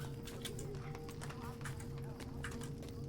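Rapid hoof clip-clop of a galloping horse mount in the Lord of the Rings Online game, steady rhythmic beats running under a constant tonal hum and background speech.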